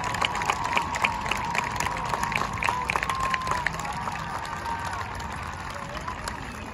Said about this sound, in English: Now let us join in a thundering round of applause for each and every band who has performed